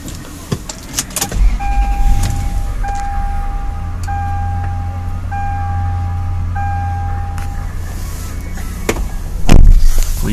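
A 2002 Lexus LX 470 SUV engine cranks and fires up, settling into a low, steady idle under a repeating door-open warning chime, heard from inside the vehicle with a few clicks and thumps.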